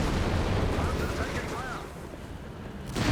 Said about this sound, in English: Mortar bank in action.